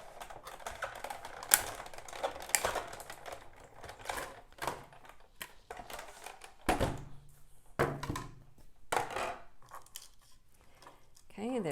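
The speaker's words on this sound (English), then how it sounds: "And then I'm going to die cut these out." A die cutting machine cuts scallop and circle dies for a paper gift tote project, giving a run of clunky mechanical thuds and rattles with uneven pauses between them, loud and close.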